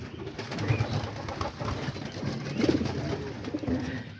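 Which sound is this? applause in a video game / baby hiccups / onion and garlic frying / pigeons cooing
pigeons cooing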